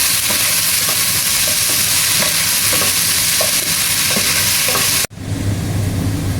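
Chopped onions for vegetable pulao being stirred and fried in a pan: a loud, steady sizzling hiss with faint scraping strokes, which cuts off abruptly near the end and leaves a quieter low rumble.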